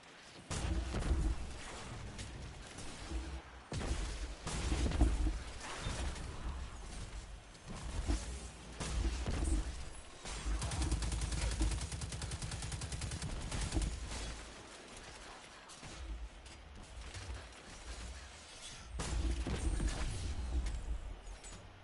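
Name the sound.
grenade launcher firing in Destiny video game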